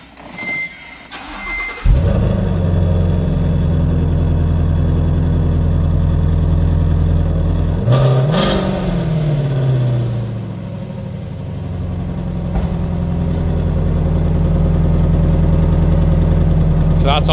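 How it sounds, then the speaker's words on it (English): A 2016 Shelby GT350 Mustang on its factory exhaust starts with a sharp catch and settles into a loud, steady, rumbling idle close by, with one brief rev blip partway through. "So that's on the factory exhaust before the H-pipe."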